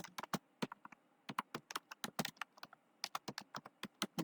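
Fingers tap out a web search on a computer keyboard: crisp individual key clicks in uneven quick runs and short pauses, close-miked and quiet, with no one talking.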